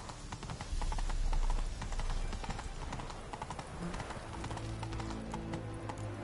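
Hoofbeats of Geralt's horse Roach gallop in a steady clip-clop rhythm through The Witcher 3, close and fairly loud, with game music and ambience underneath.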